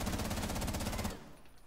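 Rapid automatic gunfire in Rainbow Six Siege, a quick burst of evenly spaced shots lasting about a second that then cuts off and leaves quiet game ambience.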